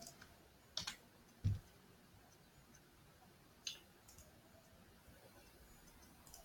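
A computer mouse gives a few faint, sharp clicks spaced apart in a quiet room, with no talking.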